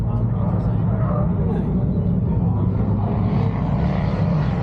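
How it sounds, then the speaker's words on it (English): Modified Jaguar XFR-S V8 on a race track at Three Sisters, a loud, steady engine roar held throughout without any break, with voices talking faintly in the background. "That sounds awesome, ripping V8."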